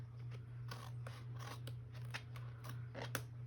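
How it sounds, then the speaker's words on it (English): Scissors cutting a piece off a paper scrapbook layout: a string of soft, close snips at an uneven rhythm over a steady low hum, with no talk. "So I'm gonna carefully turn this over and cut this piece off"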